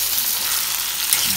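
Ackee and saltfish sizzle in a hot pan as they are mixed together, a steady close hiss of frying fat with faint stirring scrapes underneath.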